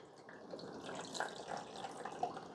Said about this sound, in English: you've got to add the correct amount of water in.